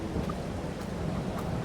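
Steady, dense hiss of rain falling in Farming Simulator 22, an even wash of droplets with no breaks, alone and without voices.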